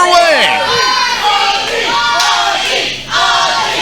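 Wrestling fans at a CWF Uprising event chant for the wrestler Cannonball, a loud, rhythmic crowd chant that fills the arena and carries on steadily with shouts mixed in.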